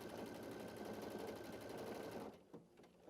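A Baby Lock Radiance sewing machine stitches steadily with a fast, even mechanical whir for about two seconds, then halts and leaves a few faint clicks and handling noises.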